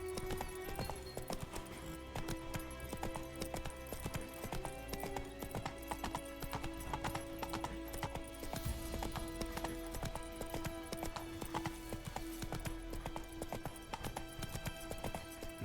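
Roach, a horse in a video game, gallops with constant quick clip-clopping hooves, faint and steady under a soft game soundscape, with no talk.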